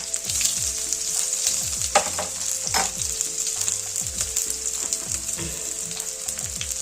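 Crushed garlic frying in hot oil in a pan for a rice-flour ukad breakfast, a bright continuous sizzle close by with regular stirring scrapes and a few sharper clinks, no talk.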